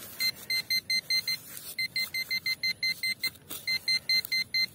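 A metal detector sweeping a plaza or hillside gives loud, close, evenly spaced electronic beeps in a quick rhythmic run, with only brief gaps between bursts.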